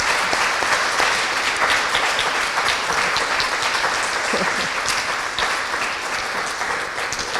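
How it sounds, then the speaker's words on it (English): A crowd claps warmly for volunteers at an education talk, a dense, sustained round of applause that fills the space and carries on evenly without fading. "I just want to have a little round of applause for these amazing volunteers"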